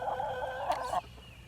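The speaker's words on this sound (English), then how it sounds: "Chickens are noisy." Chickens cluck steadily in a backyard chicken yard, close and fairly quiet, with a brief louder squawk near the end before the flock noise cuts off abruptly.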